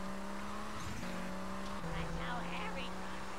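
A car drives in GTA Vice City, the engine droning at steady pitch with brief tire squeals and shifts in tone, fairly quiet and alone.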